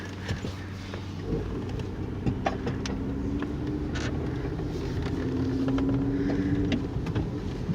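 Kia Sedona minivan with a 3.5 liter twin cam V6 and automatic front wheel drive, running on a test drive: a low, steady engine hum with faint rattles and clicks, and no speech.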